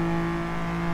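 Kei cars racing wheel to wheel at Sepang circuit, a steady loud engine drone with strong sustained tones, engines held at high revs throughout with no break.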